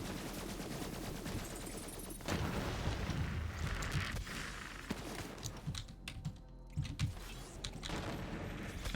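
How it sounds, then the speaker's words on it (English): Rapid bursts of gunfire-like blasts and crackling explosions in a shooter video game, a dense clattering barrage with brief pauses, moderately loud and alone. "the explosion goes boom"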